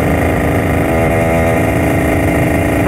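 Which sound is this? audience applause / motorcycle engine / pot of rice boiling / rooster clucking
motorcycle engine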